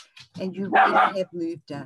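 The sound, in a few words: dog barking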